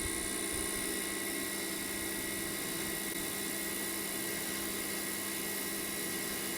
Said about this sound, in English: we'll just plough this into the brass nice and quickly